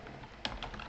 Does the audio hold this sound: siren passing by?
no